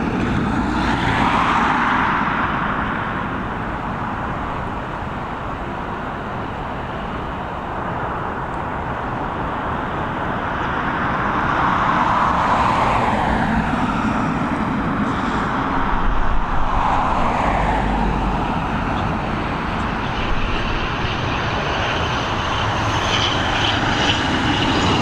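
An airliner comes in to land at Dublin Airport, its engine roar rising and falling at moderate distance over about twenty-five seconds, with faint road traffic beneath.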